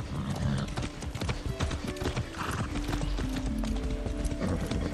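In the video game Far Cry 6, horse hooves clip-clop in a rapid, continuous trotting rhythm up close, mixed with tack rattle and a brief whinny.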